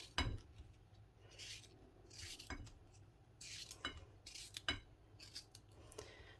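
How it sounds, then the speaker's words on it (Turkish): Green beans being sliced crosswise on a board, a run of quiet, irregular knife cuts and taps, each a brief crisp snick, close and alone without talk. "fasulyelerimizi şöyle yan yan doğruyoruz"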